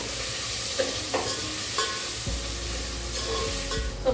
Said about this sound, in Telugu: మనం ఆనియన్స్, గార్లిక్, చిల్లీ, పుదీనా అన్నీ వేసేసి ఫ్రై చేయాలి.